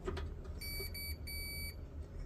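A continuity meter beeps while testing the thermal fuse of a Maytag electric dryer that won't heat, two short bursts of a steady high electronic tone close by, with no speech.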